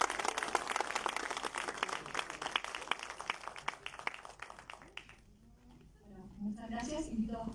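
Audience applause for two film producers at a film festival screening in Guadalajara, a dense patter of many hands clapping steadily, then thinning and fading out before a voice begins speaking near the end.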